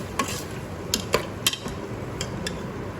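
A spoon stirs potatoes with a masala of garlic, red chili and salt in a pressure cooker. Faint scraping comes with a few sharp metallic clinks against the pot, quiet and close, with no talk.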